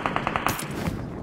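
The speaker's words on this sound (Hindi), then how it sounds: "फायर कर रहा है" Gunfire in PUBG Mobile: a quick burst of about five evenly spaced automatic shots, sharp and close, followed by a fading tail.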